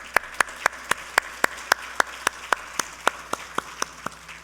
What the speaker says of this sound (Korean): 한번 박수 좀 한번 쳐주세요.